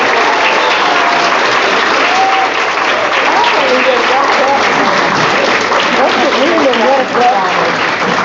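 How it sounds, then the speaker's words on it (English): Loud, sustained applause from a room full of people at a county government meeting, steady clapping throughout with scattered voices and cheers mixed in. "We've never got a clap before."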